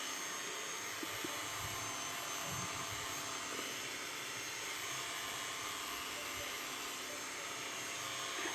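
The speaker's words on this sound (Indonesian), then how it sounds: "Di mixer sampai semua bahan tercampur rata ya teman-teman." An electric mixer beats banana butter cake batter in a continuous, even motor whir at steady volume, without a break.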